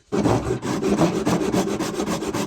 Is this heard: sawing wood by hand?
yes